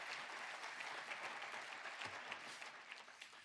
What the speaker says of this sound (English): let's just give them all one big round of applause